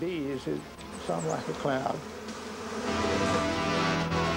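Bees buzz in a dense, droning swarm, the hum rising and swelling close by, with brief voice-like wavering tones early on.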